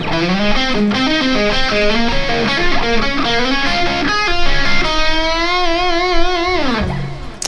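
A distorted electric guitar plays a fast, rippling arpeggio lick from a solo with bright, buzzing tone, ending on a sustained note that bends away.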